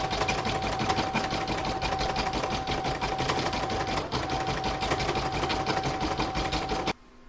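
Embroidery sewing machine stitching a snowman coaster design, a fast steady mechanical whirring and needle clatter at close range that stops abruptly near the end.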